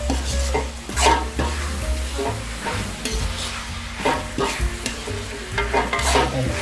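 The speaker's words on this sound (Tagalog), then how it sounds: "At saka halu-haluin lang naman ulit." Pork igado with oyster sauce sizzles in a pan while a utensil stirs and scrapes through it, giving a steady frying hiss broken by repeated close clinks and scraping strokes.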